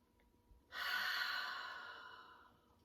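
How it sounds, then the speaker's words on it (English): A single deep exhale during a gentle neck stretch, a soft breathy rush that starts abruptly, then fades slowly over a couple of seconds, close and alone in a quiet room. "Let's take a couple deep breaths here"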